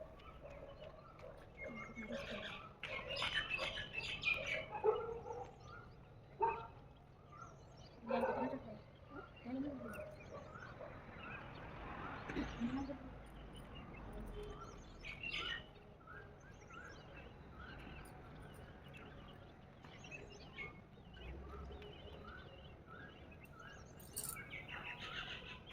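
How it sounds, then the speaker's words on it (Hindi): Birds chirp repeatedly against a steady outdoor background, with a few louder rustles and faint murmurs in places. "मैं इतनी सुंदर चिड़ियों की मीठी आवाज़"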